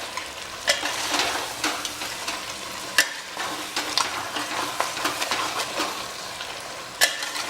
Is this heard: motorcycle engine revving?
no